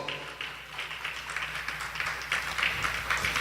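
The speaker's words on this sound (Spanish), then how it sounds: "Quiero que le dé un fuerte aplauso al Señor" Applause from a church congregation after the pastor's call to praise the Lord, a steady wash of many hands clapping at moderate distance for the whole stretch, with no voices over it.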